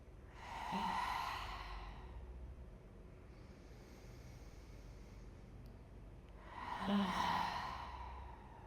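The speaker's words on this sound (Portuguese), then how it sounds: "inspira profundo. Exala, solta pela boca." Two slow, deep breaths during a restorative yoga session, each a soft, airy exhale released through the mouth like a sigh, several seconds apart against a quiet, faintly hissy room with no speech.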